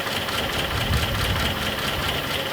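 A rescued Nissan 720 ST Datsun truck engine runs steadily after years of sitting, a loud, close, continuous idle with a rough, slightly knocking low rumble.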